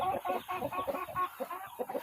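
Several chickens cluck and squawk in quick irregular bursts close by while being herded into a coop on a farm, the calls steady and fairly loud with no talk over them.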